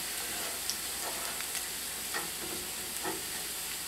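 Potato latkes frying in a pan, giving a steady, close sizzle with faint crackles and pops throughout and no voices.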